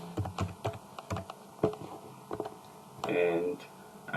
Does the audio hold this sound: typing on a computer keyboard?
yes